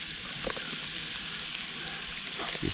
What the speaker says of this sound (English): Let's go ahead and throw the sausage in there.